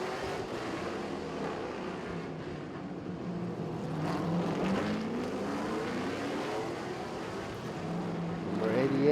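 Race cars in a TCR Asia touring car event at Bangsaen street circuit, Thailand, roar past with rising and falling engine notes, loud and continuous as they drive through the corners, swelling louder near the end.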